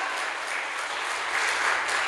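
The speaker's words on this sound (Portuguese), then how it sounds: "Você pode dar um aplauso ao Senhor Jesus?" A church congregation applauds in praise, a dense, steady wash of clapping from many hands that holds evenly from start to finish with no voices above it.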